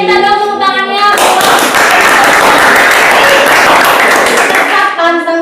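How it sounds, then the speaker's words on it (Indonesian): A live audience at a Batang Coffee session claps loudly in a dense, close burst of applause lasting several seconds, with a voice speaking just before and just after it. "Saya minta dong tepuk tangannya."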